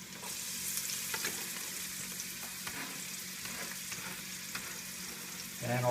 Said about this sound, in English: you want to saute them so that they get nice and soft